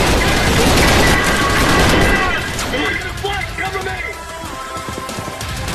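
Gunfire in the shooter game Trepang2 starts as a loud burst of rapid shots and then thins into scattered, quieter shots and clatter. Someone speaks over part of it.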